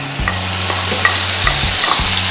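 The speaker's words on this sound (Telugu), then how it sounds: "మన ఉల్లిపాయ కొబ్బరి పేస్ట్ మొత్తం వేసేసుకుందాం" Onion-coconut paste frying in hot oil left from toasting cashews, a loud dense sizzle with a low steady hum beneath and a few light clinks, close and uninterrupted by speech.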